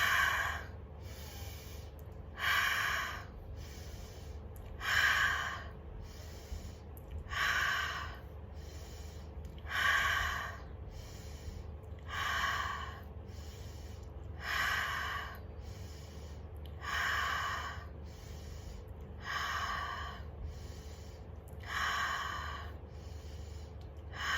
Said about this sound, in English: In through the nose, out through the mouth. And now we start alkaline breathing.